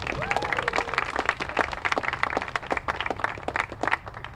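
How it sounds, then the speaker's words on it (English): Audience at the Lemonade Day Louisiana kickoff at the Governor's Mansion applauds GLZ Youth Group director Richard Bourgeois, a lively, close burst of many hands clapping with a brief voice at the start. "let's give a big round of applause for GLZ Youth Group Director Richard Bourgeois"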